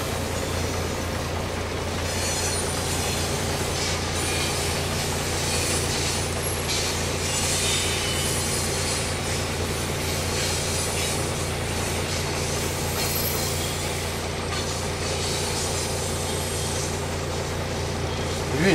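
A train carriage rolls along rails in Mauritania, giving a loud, continuous rumble and rattle of wheels throughout, with a voice faintly underneath.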